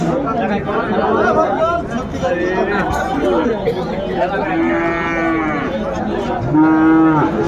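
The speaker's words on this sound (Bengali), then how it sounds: "শাহিওয়ালের ষাঁড় বাচ্চা আমরা দেখছিলাম" A Sahiwal bull calf at a busy cattle market lets out a couple of drawn-out moos near the end, over a constant murmur of people chatting close by.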